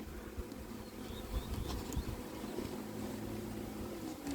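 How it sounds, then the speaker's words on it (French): A swarm of honey bees, recovered in Orly and regrouping on a cardboard box indoors, drones as a steady, low, continuous buzz, fairly faint and close, with no voices over it. "j'ai ouvert le coffre, les abeilles se sont envolées, elles se sont regroupées sur le carton"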